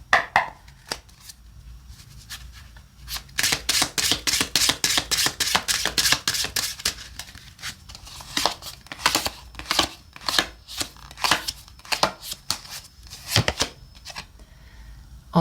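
Tarot cards being shuffled by hand, a rapid run of crisp riffling snaps and flicks that comes in bursts, close and fairly loud, with no talking.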